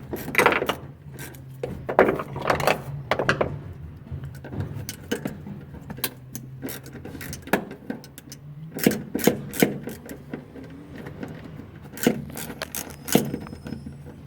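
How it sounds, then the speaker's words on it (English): Bolts loosened with an 8mm socket, a series of sharp metallic clicks, taps and scrapes arriving in irregular bursts, close and fairly loud against a quiet background. "So to remove these, you're going to need an 8mm socket."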